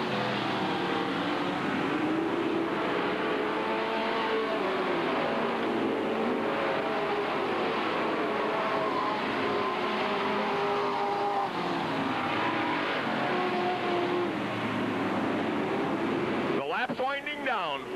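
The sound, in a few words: stock cars racing at Hales Corners Speedway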